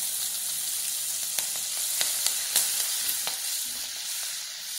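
Chopped green chillies sauté with sesame seeds and turmeric in hot oil, a continuous close sizzle broken by several sharp spatula clicks and scrapes against the pan, with no talking.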